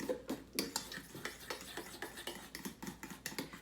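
Flax meal and almond flour batter being stirred in a bowl, with soft repeated scraping and light clinks of a utensil against the bowl in an uneven rhythm, quiet and close.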